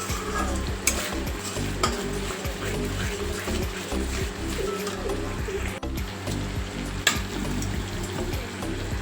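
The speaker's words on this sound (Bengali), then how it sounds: "এবার মশলাটাকে ভালো করে কষিয়ে নেব।" Spice paste with dried chili powder sautéing in a pan while being cooked down, a steady sizzle and fry with frequent scraping stirs and clinks, close and continuous, no talking.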